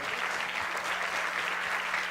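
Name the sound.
audience applause at an awards gala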